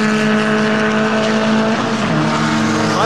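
Formula Vee race cars roaring around a circuit in a close pack of three during a heat, loud sustained engine drone with shifting pitch as they pass, a commentator faintly underneath.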